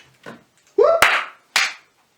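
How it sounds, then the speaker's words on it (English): A few people clapping their hands in a room, several short separate bursts of claps with a sharp smack among them, fairly close and loud with silences between. "You don't need to clap"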